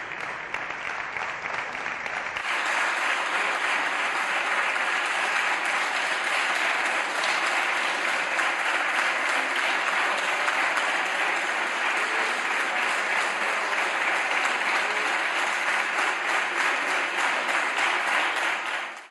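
Deputies in the Spanish Congress give Salvador Illa a sustained ovation, dense and loud clapping that starts abruptly and holds evenly at full strength before fading at the very end.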